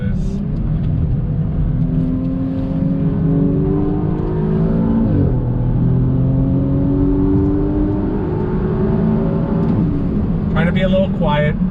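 A 2020 Audi S6 with aftermarket modifications revs on throttle, a loud, steady engine drone rising and falling in pitch during a drive, with a brief sharp burst near the end.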